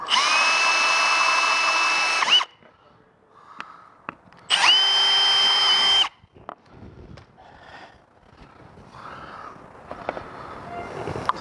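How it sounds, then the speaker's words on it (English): A power drill bores pilot holes into a caravan wall in two loud, steady bursts of whining motor, each about two seconds long, separated by quieter handling noises and small clicks. "drill 2 little pilot holes in the middle"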